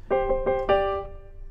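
Four quick plucked notes from the original Scriptnotes theme track, the last one ringing briefly before fading, played clearly with no talking over them.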